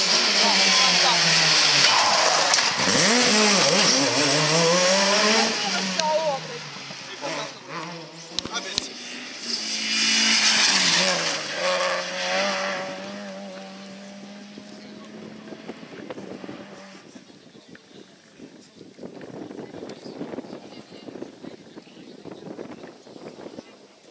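A rally car at the Rallye de la Guirlande 2016 approaching and roaring past a roadside spot without braking, its engine note sweeping and fading into the distance while spectators talk over the wind.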